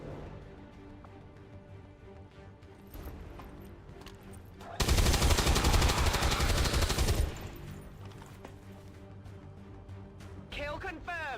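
A sustained, loud burst of automatic gunfire in XCOM 2 lasts a couple of seconds amid game music and effects, and a person talks before and after it.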